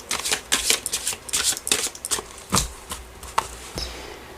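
Oracle cards being shuffled and cut by hand, a rapid close-up run of papery riffles and flicks, then a few louder slaps as the deck is cut and squared.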